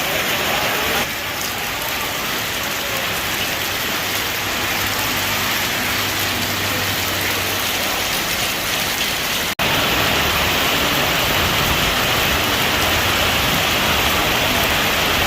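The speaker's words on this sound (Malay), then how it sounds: "Ya, hujan tengah malam." Heavy midnight rain pours steadily, a dense close hiss of drops on surfaces that holds at a constant level throughout with no voices.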